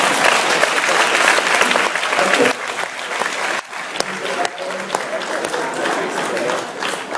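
Dense, continuous applause from a lecture-hall audience for the speaker's wife at a university award lecture, a steady roar of clapping that dips briefly midway and then continues.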